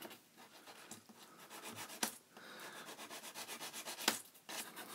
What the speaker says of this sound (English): I'm just filing this down a bit